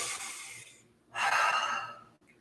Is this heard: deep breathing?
yes